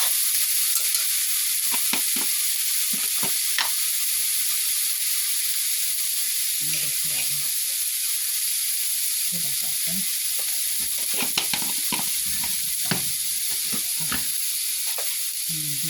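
Eggplant frying in a pan gives a steady sizzle with intermittent stirring and scraping clatter, close and moderately loud, with no talking.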